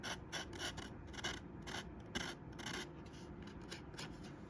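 Fine 220-grit sandpaper rubbing over a small model billboard figure for a slot car layout, a steady close scratchy rasp in quick repeated strokes with no talking.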